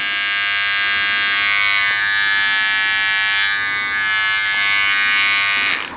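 Cordless hair trimmer buzzing steadily and loudly for the whole stretch, a constant high-pitched motor whine with slight shifts in tone as it is moved.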